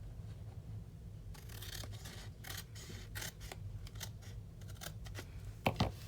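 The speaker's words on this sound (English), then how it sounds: "I'm going to trim off a little bit on this side." Scissors snip repeatedly through paper while trimming a slider greeting card, a series of short crisp cuts over a low background hum, closing with a couple of sharper snips near the end.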